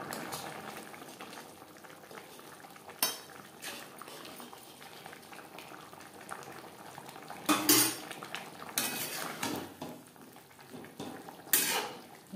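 Ghee and spices, garam masala and kasuri methi, are stirred into a vegetarian potato and cauliflower curry, a soft bubbling simmer broken by several sharp clinks of a spoon against the pot.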